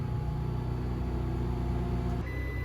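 A microwave oven runs inside an RV with a steady, even hum that shifts tone slightly just before the end, with a low background drone throughout.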